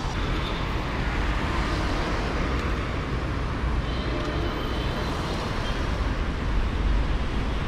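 Steady roar of Cairo city-centre traffic, a dense continuous wash of engines and road noise with no pauses, fairly loud and close.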